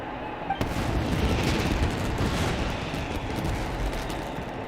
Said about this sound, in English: Fireworks aren't just for festivals, you know.